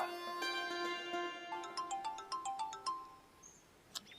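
A phone plays a bright melodic ringtone during an outgoing call, a clear, close sequence of electronic tones and chimes in a quick rhythmic pattern, fading near the end, with no talking.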